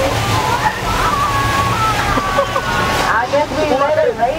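Water sloshes and splashes heavily in a sustained rushing wash, with muffled voices and background noise underneath.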